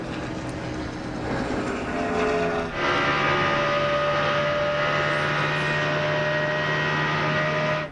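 At the 2002 Pennsylvania 500, a NASCAR race car engine drones loudly and continuously as the car comes out of turn one, its pitch shifting and then holding a steady high whine down the straight.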